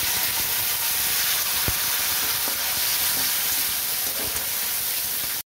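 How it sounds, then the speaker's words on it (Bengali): Tomato paste hits hot oil and sizzles loudly and steadily, a dense hissing fry that holds from start to finish, with faint occasional scrapes, then cuts off abruptly. "আমি এবার টমেটো বাটাটা দিয়ে দিলাম।"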